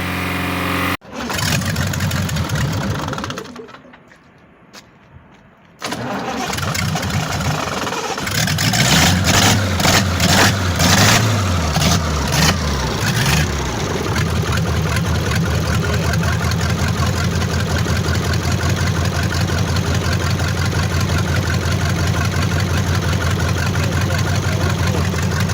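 A car engine with overdue oil changes, running with engine flush chemical added, starts after a brief drop in level and then idles at a steady, loud, close-up drone with a hint of clatter.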